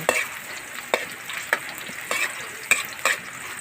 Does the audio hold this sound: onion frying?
yes